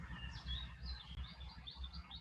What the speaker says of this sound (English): maybe the sounds of the birds.